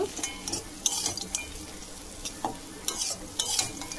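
A spoon scrapes and stirs singara filling seasoned with chaat masala in a pan, with soft sizzling beneath and sharp metallic clinks against the pan at irregular moments, close and without speech.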